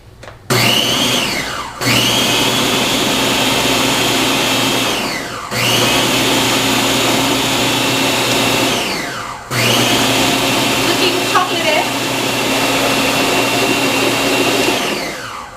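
A blender pulses a thick raw chocolate torte mixture with cocoa powder and vanilla extract in loud, close bursts. The motor roars steadily for several seconds at a time, with brief dips between pulses.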